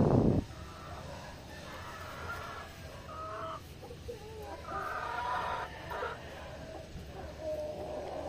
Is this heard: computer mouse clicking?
no